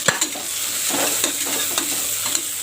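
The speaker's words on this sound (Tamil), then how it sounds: "ஆனியன் நல்லா வதங்கிடுச்சு." Chopped onions sauté in a pan for egg biryani, a steady sizzle broken by scrape-and-stir sounds of a utensil, close up with no talking.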